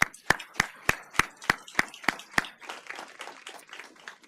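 At a Fort Mill school board meeting, one loud, close clapper beats out a steady, evenly spaced rhythm of about a dozen sharp claps, then fades into softer, scattered clapping from the rest of the room.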